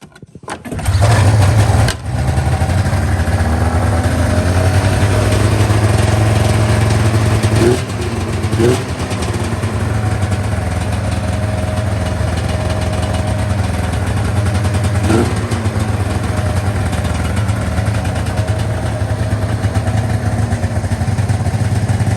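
A primed 1998 Ski-Doo Summit 670 snowmobile engine starts with a loud roar, then settles into a steady, close, buzzy idle.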